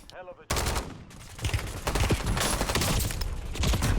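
Rapid automatic gunfire in a first-person shooter video game, loud, dense bursts that build and keep going almost without pause after a sudden start.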